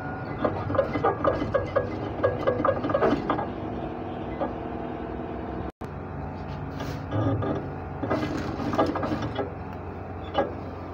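Sewing machine stitching the inseam of a trouser leg, rapid mechanical clatter in bursts with a short pause in the middle, close and fairly quiet.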